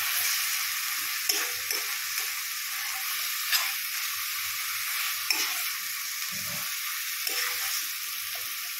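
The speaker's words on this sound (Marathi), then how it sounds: "ग्रीन वाटण 1-2 मिनटं परतल्यानंतर टोमॅटो घालायचे आपल्याला।" Green masala paste frying with onions in oil for chicken biryani, a constant close sizzle with occasional scraping stirs and light utensil knocks, no talking.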